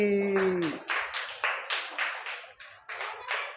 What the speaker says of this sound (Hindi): तो आप बजा दो मगरमच्छ और चींटी के लिए जोरदार ताली